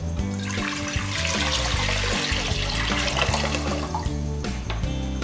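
White vinegar poured into a pot for pickled beetroot brine, a steady close splashing and gurgling pour running continuously, with no talk.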